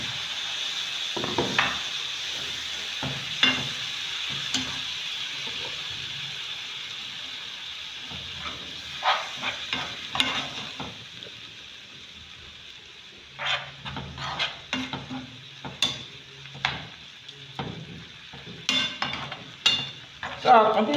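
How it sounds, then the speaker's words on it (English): Minced meat frying in a pan while being stirred, a faint steady sizzle with soft scraping and tapping strokes that grow more frequent toward the end. "So I'll continue to stir it."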